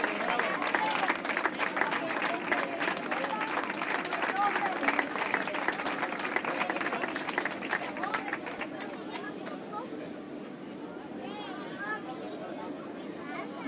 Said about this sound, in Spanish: Fuerte aplauso ahí para José Manuel Morales Montero.